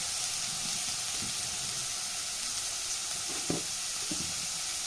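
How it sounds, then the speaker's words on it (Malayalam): Two large onions sautéing with salt in a pan for beef biryani: a continuous dense sizzle and crackle with a few soft stirring knocks, fairly loud and unbroken, with no talking. "ഇതിലേക്ക് ഞാൻ രണ്ട് വലിയ സവാളയാണ് എടുത്തിട്ടുള്ളത് ഇത് നല്ല പോലെ നമുക്ക് വഴറ്റിയെടുക്കാം"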